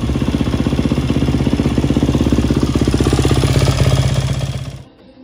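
A motorcycle engine runs at a steady idle right after starting, a loud, close, even mechanical putter with rapid regular firing pulses, then it cuts off abruptly near the end.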